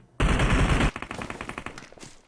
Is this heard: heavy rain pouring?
no